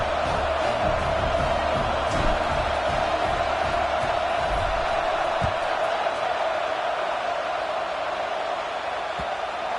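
A large football stadium crowd at a Vanderbilt versus Tennessee game, a steady broad roar with a few scattered shouts, fairly loud and continuous throughout.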